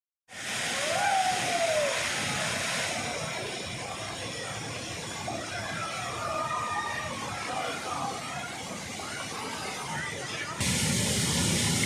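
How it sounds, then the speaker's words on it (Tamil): Water gushes at Hogenakkal waterfall in a loud, continuous broadband roar that fills the whole stretch, with a voice faintly audible beneath it. "ஒகேனக்கல் அருவியில் தண்ணீர் ஆர்ப்பரித்து கொட்டுகிறது."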